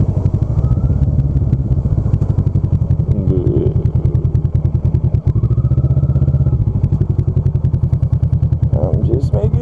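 A motorcycle idles and rumbles at night as the rider turns it around in a U-turn. The engine beat is loud and close, with a rapid, steady pulse and a few clunks, while someone talks over it.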